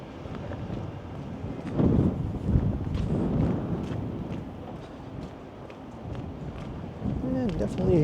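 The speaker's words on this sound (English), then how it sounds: "And definitely some wind gusts kicking up." Gusty winter wind buffets the microphone in rough, uneven surges on Dundas Street East in downtown Toronto in the early morning, with muffled voices and street noise faint underneath.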